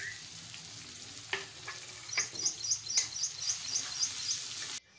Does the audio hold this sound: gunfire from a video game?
no